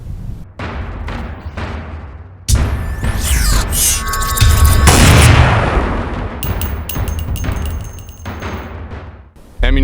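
Pistol shots from a 9mm and a .45 ACP ring out in a series of sharp, loud, closely spaced cracks with ringing tails, some bursts overlapping, at close range with no talk.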